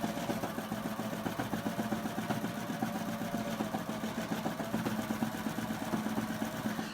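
Serger sewing machine running a cover stitch on fabric for a pair of shorts, a steady rapid mechanical whirring and clatter that holds an even rhythm throughout.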